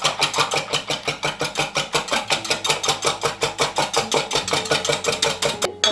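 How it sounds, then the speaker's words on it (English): A whisk beating cranberry apple cobbler ingredients together in a bowl, a fast, even rhythmic clatter of quick loud strokes that run continuously before stopping abruptly near the end. "we're going to whisk this all together"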